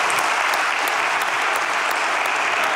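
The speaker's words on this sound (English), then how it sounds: "I think this young man needs a round of applause," A church congregation gives a round of applause during a Sunday morning service, a dense, steady clapping that stays loud and even from start to finish.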